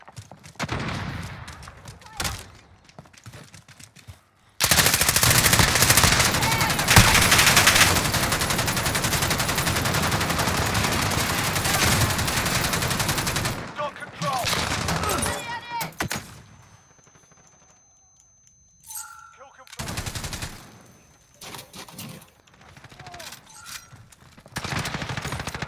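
Heavy gunfire from a Call of Duty Modern Warfare match erupts in a loud, dense burst of automatic shots lasting several seconds, then trails off into scattered quieter shots and pauses.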